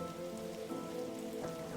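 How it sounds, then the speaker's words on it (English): Steady rain patters on a leaky squad car in The Darkside Detective video game, an even close patter with a low, humming musical backdrop and no voices. "How many cases do we need to solve, do you think, to get a car that doesn't leak in the rain?"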